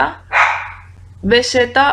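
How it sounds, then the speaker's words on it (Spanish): A small pet dog barks a few times indoors, with short yappy bursts near the start and a tighter cluster of barks toward the end, fairly close and loud against a quiet room. "mi perrita está ahí ladrando"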